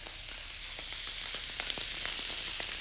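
Steak hitting hot oil with crushed garlic and thyme, a steady dense sizzle and crackle throughout with scattered sharper pops, close and loud, no talking.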